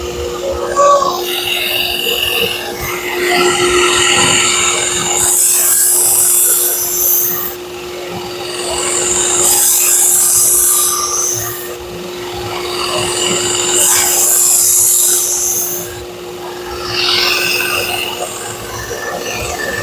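A belt grinder regrinds a Hatsukokuro Kurogane bunka kitchen knife, producing a steady motor hum under repeated loud, hissing grinding passes that swell and fade in long strokes, close up.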